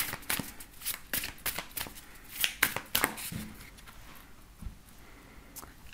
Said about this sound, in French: on va faire un tirage avec cet oracle et on complétera les messages avec le tarot Histoire de sorcière